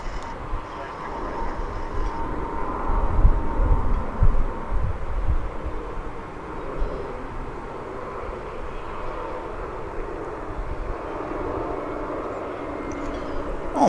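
An airplane takes off at DFW Airport before sunrise, a distant, broad engine roar rumbling steadily throughout, while people talk nearby.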